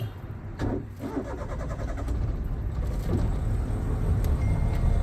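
A car engine cranks and catches during a driving lesson in Irinjalakuda, Thrissur, then settles into a steady, fairly loud idle that hums on close by with no talking.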